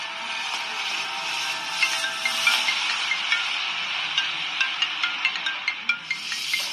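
A mobile phone ringtone plays as a steady, bright melodic tone with rhythmic pulses that grow more regular toward the end, heard alone with no talk.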